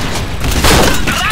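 A grenade bursts in the online shooter Point Blank: one short, heavy, broadband blast that swells midway through and fades quickly over a dense game din.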